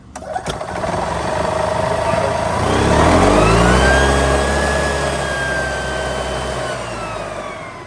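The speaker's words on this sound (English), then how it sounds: "when you hit the gas, it's cranking up already, but the throttle's all the way back there" A gas golf cart engine starts and then revs up steadily as the throttle is pressed, its pitch rising into a loud, sustained drone. The engine is heard up close and alone.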